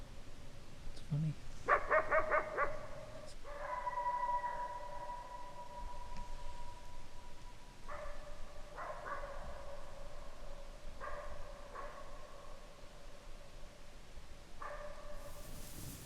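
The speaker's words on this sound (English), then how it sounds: "I wonder if he's barking at me." A distant dog across a lake barks a few times, then lets out drawn-out howls and yelps that carry faintly over a quiet, steady background in snowy winter woods.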